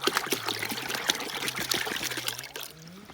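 Water trickles and splashes steadily as it is poured into a 16-litre garden sprayer while a treatment solution for fruit trees and vines is mixed, with a continuous close pour that tapers at the end.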